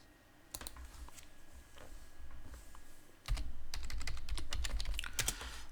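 Rapid keystrokes on a computer keyboard during a Linux Mint Debian Edition 7 setup, sparse clicks at first, then a dense, steady run of close, crisp typing.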